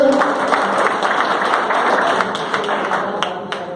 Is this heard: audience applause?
yes